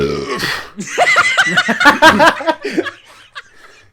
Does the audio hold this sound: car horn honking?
no